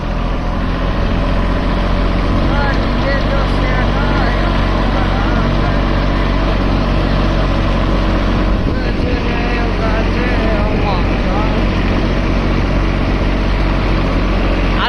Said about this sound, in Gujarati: આપણો ભાઈ હાકે છે અત્યારે ટ્રેક્ટર